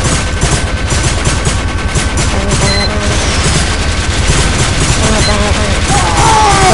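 Dense, rapid gunfire from a Team Fortress 2 Mann vs. Machine match, loud and continuous, with overlapping bursts and booms in a steady barrage.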